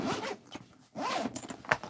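Zipper tape for sewing a bag rustles and rasps as it is handled, with two bursts of scratchy zipping noise and a brief quiet gap between them, close by and fairly loud.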